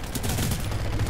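Short burst of rapid gunfire in the shooter game Titanfall 2 as enemy grunts are shot, a dense muffled rattle lasting about a second at moderate level.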